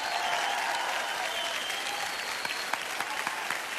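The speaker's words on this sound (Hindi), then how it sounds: "जोरदार तालियां हमारी बैंड के लिए" An audience applauds a band at a singing competition, dense sustained clapping from a crowd that stays loud and even throughout.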